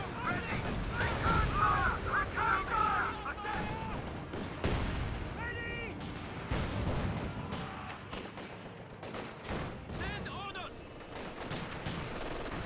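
Sniper fire in a strategy war game, with loud gunshots and bursts of battle fire under someone talking continuously, plus scattered chirps and effects in the background.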